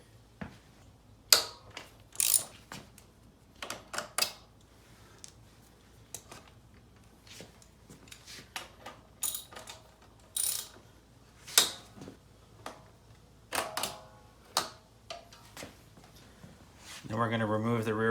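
A ratchet wrench loosens the shock mount bolts on a Yamaha PW50 motorcycle, giving a dozen or so short, sharp bursts of clicking at an irregular pace, each close and crisp, with a heavier, busier rattle at the very end.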